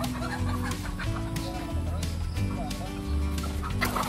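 Chickens clucking continuously while being moved into a new steel cage on a poultry farm, a busy layered flock sound with loud, close hens calling over one another throughout.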